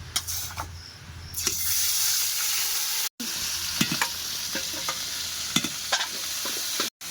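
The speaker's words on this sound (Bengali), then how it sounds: "চিনিটা কিন্তু তেলের উপরে ফুটে উঠছে তো এবারে মশলাগুলো দিয়ে দেবো" Steady sizzling of sugar and spices frying in hot oil, with occasional stirring scrapes and clinks close by; no voices.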